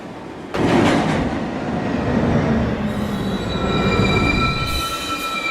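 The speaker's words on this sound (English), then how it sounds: "This is a 1 train going downtown towards Rose Street." A downtown local 1 train on the NYC subway pulling into Lincoln Center station, a loud roar of wheels on rails that turns into high, sustained squealing brakes as it slows, with no voices.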